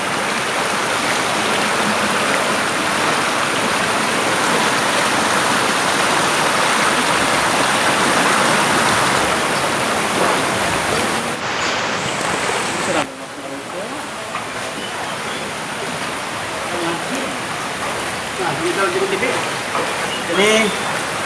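Floodwater rushes in a steady, loud broadband roar through a housing complex in Ulujami Indah, South Jakarta, continuous and close, with people talking over it.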